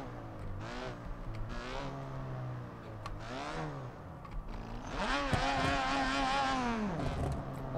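A sports car engine in BeamNG.drive revs up and down through several gear changes, whining higher with each acceleration, then climbing to a sustained roar near the end.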